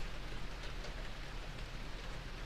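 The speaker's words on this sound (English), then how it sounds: "Hey, can everybody hear the rain?" Heavy rain pours in a steady, dense hiss that fills the background, loud and constant, with no distinct thunderclap standing out and no talk.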